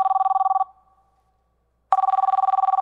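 A telephone rings with an incoming call: two bursts of rapid electronic warbling trill with a silent pause between them, loud and close, with no talk.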